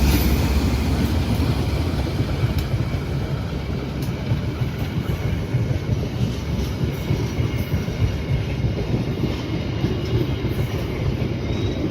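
A local train passes on the railway near Cicalengka station with a loud, continuous rumble and wheel clatter, close by and steady throughout.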